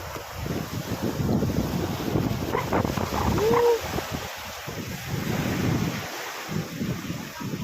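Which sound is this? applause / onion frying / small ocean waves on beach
small ocean waves on beach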